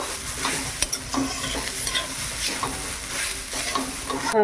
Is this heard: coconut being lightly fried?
yes